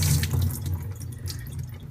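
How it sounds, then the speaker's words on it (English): Excess water being drained by hand, without a strainer, from food that has soaked for about four hours in a kitchen: a steady, close splashing and pouring stream that runs unbroken for the whole stretch, with no talking. "Now we're going to try to get rid of some excess water."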